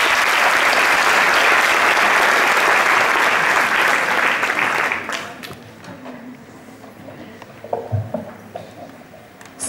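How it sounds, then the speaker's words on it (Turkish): An audience at a university poetry reading breaks into loud, sustained clapping for about five seconds, which then fades to a few scattered claps and quiet room noise. "Bu alkışlanır baylar."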